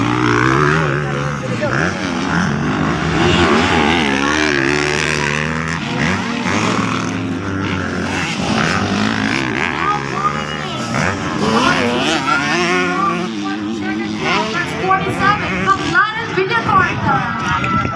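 Revving racing motorcycle engines whine and rise in pitch, heard from a distance at a race beneath a crowd's babble and someone commentating steadily over them.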